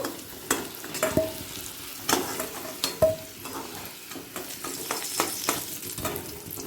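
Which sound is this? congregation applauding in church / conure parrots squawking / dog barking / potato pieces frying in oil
potato pieces frying in oil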